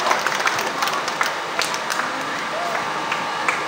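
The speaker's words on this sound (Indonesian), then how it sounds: "Oke, tepuk tangan untuk kita." Applause from an audience at the opening ceremony of a Shoto-Kai karate training event in Wolowae, Indonesia, a steady dense patter of clapping filling the whole stretch at moderate loudness.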